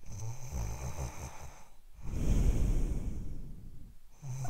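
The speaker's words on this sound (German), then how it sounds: "Oma, warum schnarcht der Opa so?" Loud, close grandfather snoring in a Playmobil film, two long rasping inhalations with a quiet pause between them, heard alone without any talk.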